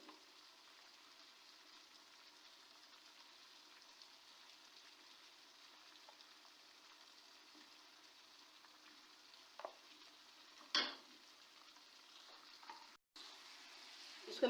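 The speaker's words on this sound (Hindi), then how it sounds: "इसको मैं अच्छी तरह मिक्स कर लेती हूँ।" Ketchup is stirred into chicken macaroni in a pan, giving a faint, steady sizzle with a few soft spoon scrapes and clinks near the end. No one speaks.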